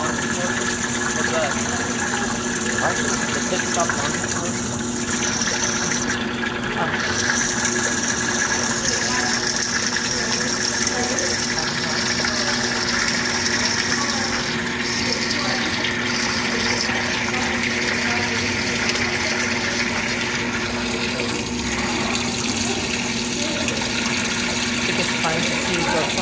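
Speed Queen laundromat washer on a handwash cycle filling with water, a continuous rushing hiss over a low pump hum, with voices in the background.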